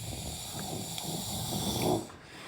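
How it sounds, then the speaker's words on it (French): A man who has fallen asleep snores loudly and close, with slow, rough breaths that swell and then fade, and no talk over them. "Ça doit peut-être faire 20 minutes qu'il s'est endormi et qu'il ronfle"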